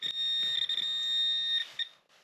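A metal detector sweeping mineralized ground gives a steady high electronic tone that holds for about a second and a half, wavers briefly, then cuts off with a short blip after it.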